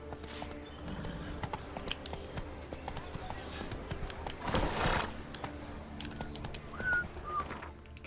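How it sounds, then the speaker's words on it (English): Horse hooves clip-clopping on the ground in The Witcher 3 video game, a quiet irregular patter of hoofbeats with birdsong and faint ambient sounds around it. "Get on the fucking horse, Geralt."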